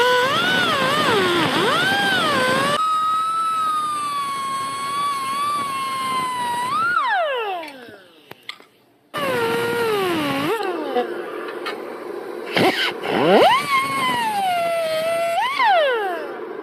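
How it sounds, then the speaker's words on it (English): Bicycle frame chain stays being cut with a power tool: a loud, steady high whine whose pitch sags and rises as the blade bites into the metal, with a short pause between two cuts. "Now I'm just going to cut the chain stays out."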